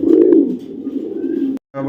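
Blue-bar racing pigeons coo in a steady, close, low throaty rumble that carries on continuously, then cuts off briefly before resuming.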